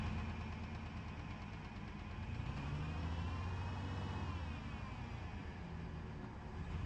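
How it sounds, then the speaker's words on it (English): An old Ford F-150 truck pulled out of the woods, its engine idling roughly on five cylinders, a continuous low rumbling drone with a slightly uneven pulse, close and steady throughout. "It's running on 5 cylinders good."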